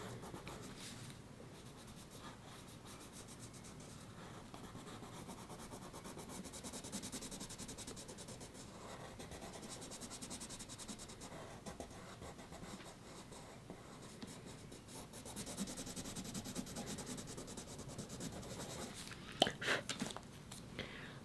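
Continuous soft scratchy rubbing of a Caran d'Ache Luminance colored pencil shading on paper, steady strokes throughout, close and fairly quiet with a few sharper taps near the end.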